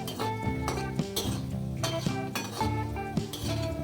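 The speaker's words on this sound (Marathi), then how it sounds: "आपण बदाम टाकून घेऊया हे पण हलवायचे आहेत" Almonds are stirred in a pan while making vermicelli kheer, with a steady scraping of a spoon against metal, soft clinks and a faint sizzle, close and continuous without talk.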